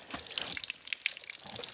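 Water splashes and trickles out of a disassembled 413 Wedge V8 engine during a teardown, a faint, brief patter of drips and small gushes heard up close with no talk.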